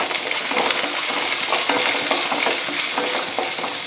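Small shallots, garlic, black pepper and cumin sauté in hot oil for a fish curry, giving a steady close sizzle with occasional scrapes and stirring clinks throughout.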